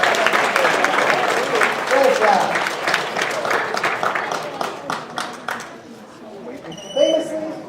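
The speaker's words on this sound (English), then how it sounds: "Big round of applause for Jenna, ladies and gentlemen." Applause and cheering from the audience at a chemistry demonstration night, filling the room for a quiz contestant and then tapering off, with a voice speaking briefly near the end.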